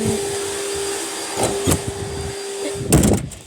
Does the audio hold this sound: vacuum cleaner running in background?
yes